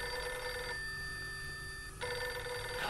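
A telephone ringing in a house at night, with a bright electronic bell that rings in bursts broken by a short pause, moderately loud over a constant background hum.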